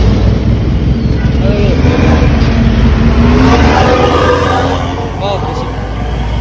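A car accelerating, its engine revving loud and close under a steady roar that eases slightly near the end, with voices talking over it.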